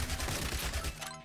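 Submachine gun fire from Yet Another Zombie Survivors, a zombie survival video game, bursting in a dense, rapid stream of loud, continuous shots throughout the short stretch.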